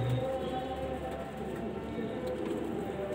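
Pigeons in a loft give a low soft cooing at the start. Then a quiet, steady background hum carries on, with faint voices somewhere in the scene.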